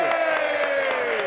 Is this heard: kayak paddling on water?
no